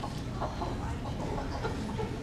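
Chickens clucking on a theatre stage during a stage musical, a steady murmur of soft, overlapping fowl clucks and calls against a continuous busy background.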